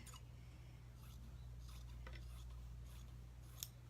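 Scissors trimming fabric for reverse appliqué, quiet repeated snipping strokes over a low steady hum, close and soft, with no talking.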